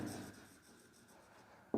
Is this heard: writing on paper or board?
yes